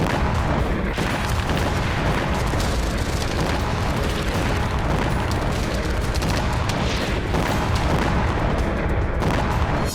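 Explosions and artillery fire from the war in Ukraine, including cluster bomb blasts, form a dense, loud, continuous wall of booming, crackling noise without clear gaps, heard alone with no voices.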